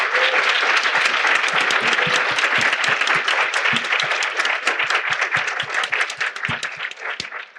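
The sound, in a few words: audience applause for three panelists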